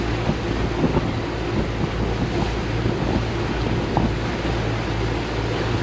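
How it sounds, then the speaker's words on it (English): Strong wind buffets a boat, a loud, constant broadband roar and rumble with gusty surges and faint splashing, steady throughout with no voices. "Really windy."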